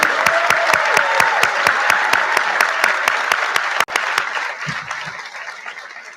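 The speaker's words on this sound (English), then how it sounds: "Let's join in a round of applause for Jacob Wilner's." Applause from an audience at a high school senior awards ceremony, sustained clapping with a strong steady beat of synchronized claps close by, breaking off partway before fainter scattered clapping trails away.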